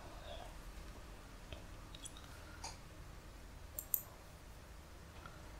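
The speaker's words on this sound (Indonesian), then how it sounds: "Anggaplah kita mengetik." Soft, sparse keyboard clicks from typing on a computer keyboard, scattered irregular taps over a quiet background with one slightly louder click near the end.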